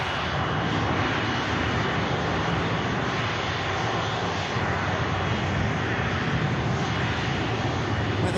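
A Hainan Airlines A330 jet taxis close by at Manchester Airport, a loud, continuous engine roar with broad rushing noise holding steady throughout, no voices over it.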